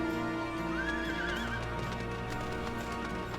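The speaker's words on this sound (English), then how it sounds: "We got a lot of horses now." Final Fantasy XIV horse mount neighing in-game: a rising whinny lasting about a second, with clip-clopping hooves and steady game music playing throughout.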